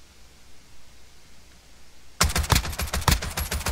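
Gunfire in a multiplayer bounty hunter video game starts abruptly after two seconds of low hiss, becoming a loud rapid string of shots, about a dozen close cracks in quick succession.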